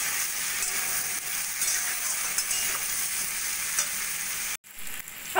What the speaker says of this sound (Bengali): নুন হলুদ ভালো করে মিশিয়ে নিয়ে সবজিগুলো একটু ভাজা ভাজা করে নেবো।